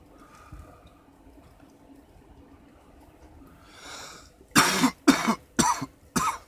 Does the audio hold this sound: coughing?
yes